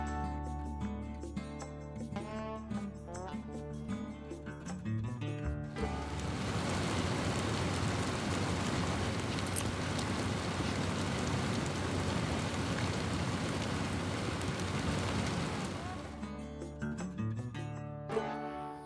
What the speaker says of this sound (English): That was a downpour we got.